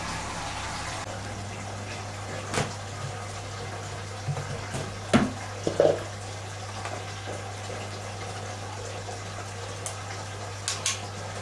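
Nutrient mix pumps from a main reservoir into a bucket of a hydroponic plant system, a continuous low hum with watery trickling and a few soft knocks and clunks scattered throughout.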